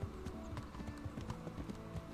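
A horse's hooves clip-clop at a steady walking rhythm in the medieval video game Kingdom Come: Deliverance, quiet and close, with faint ambient background.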